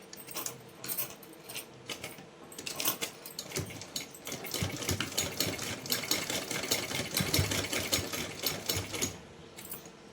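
A sewing machine stitches a straight fabric strip for a small Laddu Gopal summer dress, with uneven bursts of rapid mechanical clatter and clicking that speed up and pause, close by and moderately loud.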